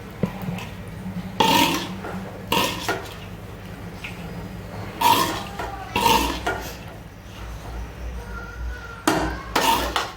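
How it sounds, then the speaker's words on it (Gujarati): Ingredients for semolina ladoo are stirred in a bowl, with a spoon scraping and knocking against the side in several short, close clattering bursts over a quiet background. "હું આ બધું મિક્સ કરી લઉં છું"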